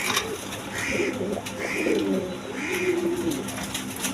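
A breeding pair of Spanish Gorgori Potter pigeons cooing up close, three or four distinct throaty rolling coos in a slow rhythm over a low background hum.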